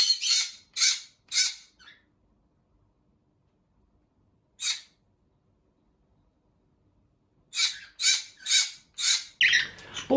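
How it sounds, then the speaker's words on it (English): A parrot gives sharp, loud screeching squawks in bursts, three quick calls, a lone one after a pause, then a rapid run of several more, with nothing else heard. "attention seeking is a big reason for parrot screaming"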